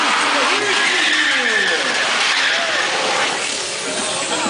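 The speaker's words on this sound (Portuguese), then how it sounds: "Vem ali, atravessando o ômega turbinado ali, ó." A turbocharged Chevrolet Omega drag racing car revs loudly at a Brazilian drag strip, a sustained roaring engine with rising and falling pitch sweeps, while an announcer talks excitedly over it.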